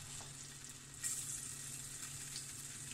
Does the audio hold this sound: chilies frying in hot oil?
yes